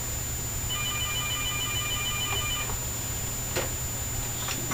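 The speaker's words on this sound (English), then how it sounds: "And the phone's ringing" A telephone rings with a steady electronic trill for about two seconds in a room during a PC build, set against a constant low hum, followed by a few faint clicks of handling.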